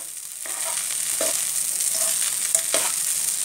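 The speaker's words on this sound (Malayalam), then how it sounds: "ഇനി ഒന്ന് നന്നായിട്ട് മിക്സ് ചെയ്യാം" Leftover puttu turned into upma is stirred in a pan: a steady close sizzle with several distinct scraping strokes of the spoon across the pan, with no voices.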